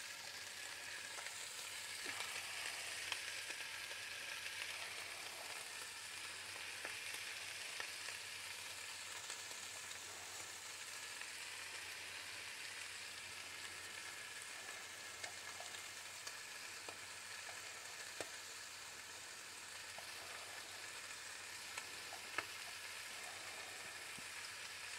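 Sliced onion and bacon lardons frying in a pan, a steady close hiss and sizzle running through the whole stretch with faint occasional clicks and stirring, no talking.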